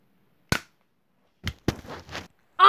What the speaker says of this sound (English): It's a Nerf gun.